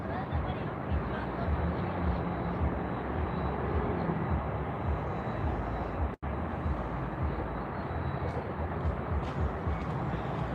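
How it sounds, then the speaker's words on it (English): A LATAM Boeing 777 airliner arriving at Miami Airport produces a broad, loud, steady roar that fills the scene from start to finish, with only a momentary dropout midway. "We have a LATAM 777 on the way in."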